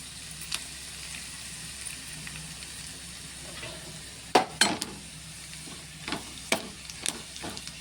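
Cumin seeds and dried red chillies fry in hot oil for a kakarakaya pickle, a low crackling sizzle joined by several sharp clinks and stirring knocks against the pan.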